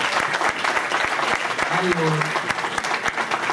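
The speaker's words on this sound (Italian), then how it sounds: "Applauso" Audience clapping at a political assembly of activists, dense and sustained with sharp individual claps standing out, while a voice speaks briefly over it.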